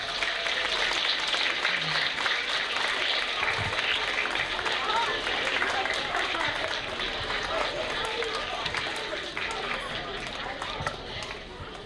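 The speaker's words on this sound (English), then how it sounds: "give them a big round of applause" Fifth-grade students applaud their parents and families at a school promotion ceremony, a dense steady roar of many hands clapping in a large hall that fades slightly near the end.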